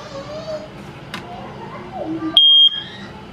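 A smoke alarm sounds one loud, steady high-pitched beep lasting about a third of a second, tested indoors after a stretch of quiet talking and household noise.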